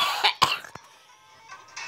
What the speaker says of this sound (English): Why I'm coughing?